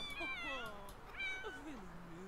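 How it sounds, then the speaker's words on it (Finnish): Several cats meow and caterwaul in The Sims 4, with repeated rising and falling cries from more than one animal, moderately close and fairly quiet, while a person talks over them. "täällä huutaa miljoona kissaa"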